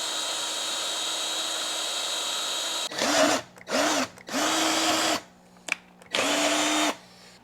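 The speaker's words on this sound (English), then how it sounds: "we need to drill a hole right here" A power drill boring a hole through wood whirs in four bursts of about a second each, close and loud, with short pauses between them and a faint click in one gap.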